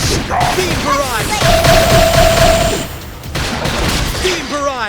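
Beam barrage attack from combat in the video game Xenoblade Chronicles X: a loud, dense volley of crackling energy shots with a sustained whining tone, repeated in bursts, with short voiced battle callouts over it.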